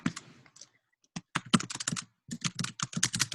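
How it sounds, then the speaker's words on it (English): Bursts of computer keyboard typing in short irregular runs with brief pauses, close and fairly loud, no talking. "I'll type that one in."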